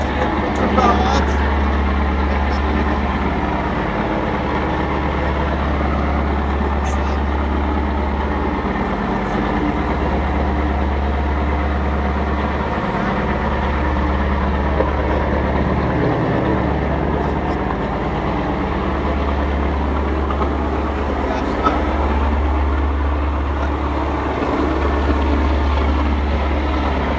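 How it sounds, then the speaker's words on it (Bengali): Two diesel engines of a passenger launch on the Sadarghat to Chandpur river route roar loudly and steadily from the engine side, a deep pulsing drone that continues throughout with a faint voice underneath. "ইঞ্জিনের প্রচন্ড আওয়াজ"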